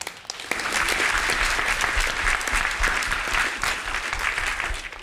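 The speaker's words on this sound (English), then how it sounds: "How about another round of applause for generous, talented Faith Rivera?" Sustained, dense applause from a large audience at a special gathering with Supreme Master Ching Hai fills the whole stretch, loud and steady with no gaps.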